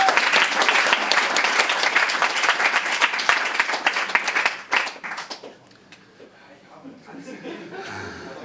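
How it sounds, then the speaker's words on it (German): Loud audience applause for David Kopsch at a German reading-stage event, dense clapping for about five seconds that drops off abruptly, leaving faint murmurs and a brief chuckle. "Applaus für David Kopsch."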